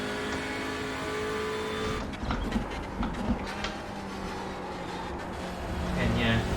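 Engine of a TCR touring race car lapping Spa in the iRacing simulator, a steady loud drone with rising and falling pitch through the corners and brief clicks of gear changes, while someone talks over it.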